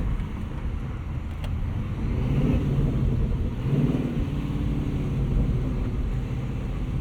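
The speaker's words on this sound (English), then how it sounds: "you can kind of just still cruise around at low speeds, listen to your exhaust." A 2024 Ford Mustang Dark Horse cruises at low speed, its exhaust giving a deep steady rumble that swells slightly a couple of times, heard from inside the car with no talking.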